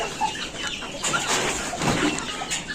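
Backyard chickens cluck and murmur softly while being fed, a scattered chorus of short calls at moderate distance, with no talk over them.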